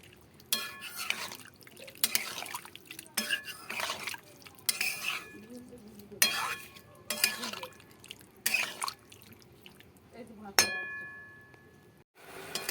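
A spoon scrapes and clinks against a pan while soybean and potato curry is stirred with water, repeated bursts of stirring separated by short pauses, close and fairly loud, with a sharp metallic knock near the end.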